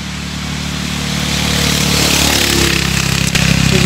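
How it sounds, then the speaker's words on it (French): Motorcycle engine droning near a forest walking path, swelling steadily louder as it approaches and passes, a rough continuous hum with a rattly edge. "c'est un petit peu chiant qu'il y ait des bruits de moto, des trucs comme ça"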